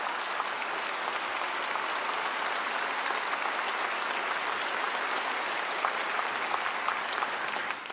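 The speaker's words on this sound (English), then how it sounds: "Can we give them all just one more round of applause?" A large crowd at the L.A. Times Festival of Books applauds steadily, a dense, even wash of many hands clapping that holds without a break.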